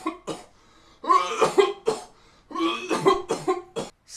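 A man coughing in several harsh, spluttering bursts separated by short pauses, close and clear, as if choking on coffee.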